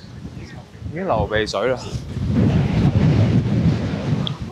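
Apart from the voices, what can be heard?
strong wind blowing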